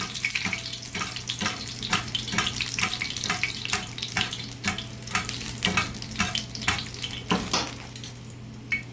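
A chile relleno sizzling in hot oil, a steady crackling fry with small pops and spatters as oil is flicked over the top, fairly close and moderately loud.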